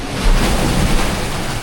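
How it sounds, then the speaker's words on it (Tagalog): Sea waves churn close by in a loud, turbulent wash mixed with blustery wind buffeting the microphone. "bukas na naman yung alon."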